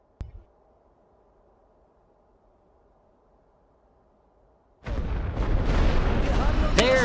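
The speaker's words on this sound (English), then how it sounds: "There's the artillery." Artillery fire in the World War I game Great War Western Front: after several seconds of near silence with a single early thump, a loud, dense roar of booming barrages erupts and keeps rolling.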